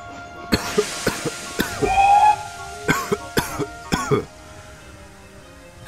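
Someone coughs repeatedly, a string of short harsh hacking bursts with a brief wheezy whistle in the middle, then quiet.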